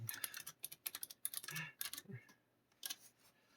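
Computer keyboard typing in short irregular bursts of clicks, fairly close, with faint room sound around and brief pauses between keystrokes.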